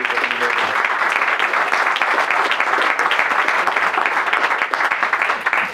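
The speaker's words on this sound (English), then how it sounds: "I'd like to call for another round of applause for Ross and his wonderful people." At a housing development ribbon-cutting ceremony, a crowd claps in steady, dense applause that holds at an even level throughout.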